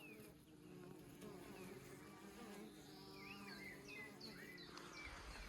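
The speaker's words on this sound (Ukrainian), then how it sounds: "бджілки носять пилок" Bees hum and buzz steadily around a beehive as they fly in carrying pollen, a close, continuous insect drone with a few bird calls faint in the background.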